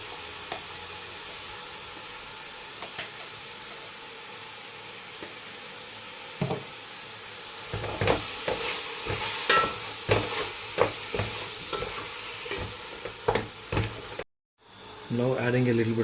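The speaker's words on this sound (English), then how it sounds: "And now add the biryani masala and half of the mint, and add around 5 tablespoons of yogurt." Spoon scraping and stirring through kheema biryani in a pan with biryani masala, mint and yogurt, a soft sizzle underneath; after a quiet start the stirring becomes a run of close, uneven scrapes and clacks.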